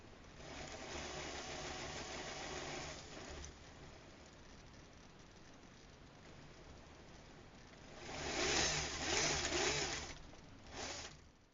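A 370 gearmotor drives a metal transfer case on a test setup for a Willys Jeep RC truck, giving a steady, faint mechanical whir that swells louder and rougher for a few seconds near the end.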